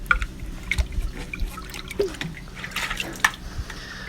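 Water flows and trickles from the drain pipe of a koi pond filter while the pump runs, a steady low wash broken by scattered drips and splashes at close range, with no voices.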